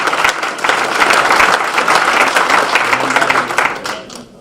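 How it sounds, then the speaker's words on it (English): A room at a Chamber of Commerce officers' installation breaks into sustained applause from a seated crowd, dense steady clapping throughout that tapers slightly at the end. "Just a round of applause."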